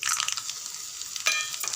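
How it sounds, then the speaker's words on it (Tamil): Chana dal, urad dal, mustard seeds, a dried red chilli and cumin crackle and sizzle in about three spoons of hot oil for tempering, a brief, close burst of frying with no talking. "ஒரு 3 ஸ்பூன் எண்ணெய் விட்டுருக்கேன் தாளிக்கிறதுக்கு"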